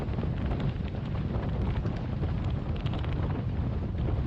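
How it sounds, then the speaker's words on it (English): Strong, steady wind roars and buffets the microphone without a break out on a match racing sailing course at the Macao Match Cup, loud and continuous with no voices. "You can see quite windy here."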